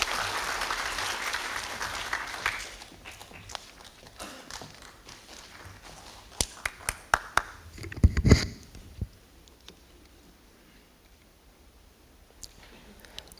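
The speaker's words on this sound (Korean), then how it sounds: "큰 박수 부탁드립니다." An audience at a residents' survey results briefing claps loudly at first, then the applause thins out over several seconds into scattered claps, shuffling footsteps and a few sharp knocks before the room falls quiet.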